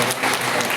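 Loud, close applause from the audience at a farewell ceremony in Hoovinahadagali, honouring donors, with many hands clapping in a thick continuous burst that holds level for under a second.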